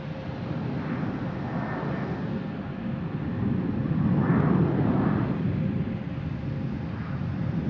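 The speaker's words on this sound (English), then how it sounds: "right behind it we have a American Airlines coming in from Dallas Fort Worth" An American Airlines jet arriving from Dallas Fort Worth at Boston Logan Airport gives a continuous broad engine roar that swells around the middle and then eases, with no talking.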